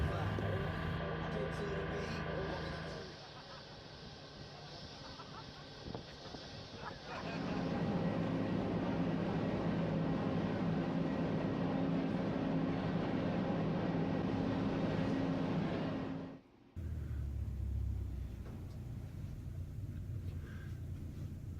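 A ride aboard a military LCU landing craft, with a loud, steady engine drone and rumbling hull noise that shifts in tone partway through, briefly cuts out, then resumes, and faint voices underneath.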